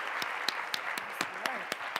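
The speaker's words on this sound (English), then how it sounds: "Round of applause, please." Audience applause at a pitch competition: steady, moderate clapping from a crowd with a few sharper individual claps standing out, and faint voices underneath.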